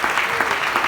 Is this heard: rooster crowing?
no